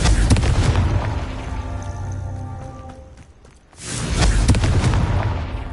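Booming blast from the Confringo spell in the Hogwarts Legacy video game, a loud burst followed by a brief dip and then another heavy, rumbling explosion.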